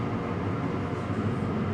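Steady, close rumble of a passenger train riding along near Koblenz, a continuous broadband drone with no talk over it.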